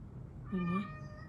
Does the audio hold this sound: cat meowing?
yes